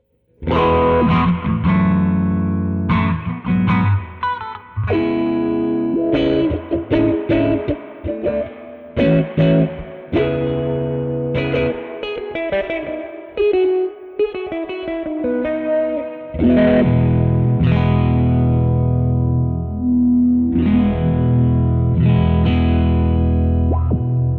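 A distorted electric guitar plays through an Old Blood Noise Float dual filter pedal, one filter on a rising and one on a falling sawtooth, its tone sweeping up and down in choppy, pulsing bursts with some pauses between phrases.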